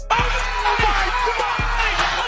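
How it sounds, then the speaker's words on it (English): Arena crowd roaring loudly after a game-winning shot in an NBA basketball game, a dense continuous cheer with whoops and commentators' voices over it. "Just listen to the commentators and the crowd."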